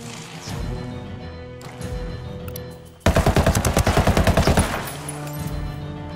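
Rapid automatic gunfire in the video game Ghost Recon Wildlands, a loud, dense string of shots after a quieter stretch of game ambience, with no talk.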